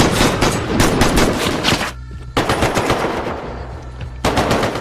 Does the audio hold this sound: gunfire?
yes